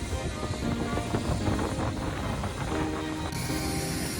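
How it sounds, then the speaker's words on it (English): A helicopter on a ride from New Jersey to New York gives a dense, steady mechanical roar and rotor thrum, loud and continuous throughout. "There you go, guys, our helicopter."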